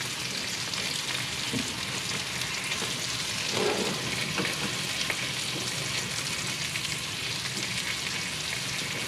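Onions sizzling steadily in a hot pan with a splash of sesame teriyaki sauce, a constant close crackling hiss with brief stirring scrapes partway through, no voices over it.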